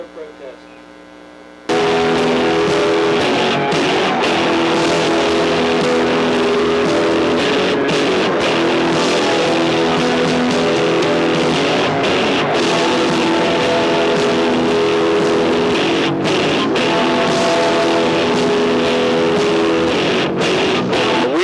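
Sprint car engines at Lernerville Speedway roar to life together after a brief quiet start, a loud, sustained mass of revving motors with steady harmonic drone and occasional throttle blips, no talk.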